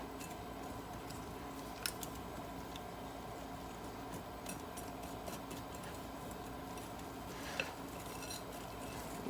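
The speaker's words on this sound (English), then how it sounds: "And we're just going to stir this in." A spoon stirs milk into a mixture in a bowl, soft scraping and clinking with a couple of sharper taps, fairly quiet and close.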